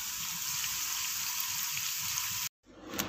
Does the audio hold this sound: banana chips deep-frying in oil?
yes